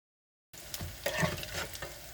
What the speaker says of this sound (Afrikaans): vlak olie en braai dit.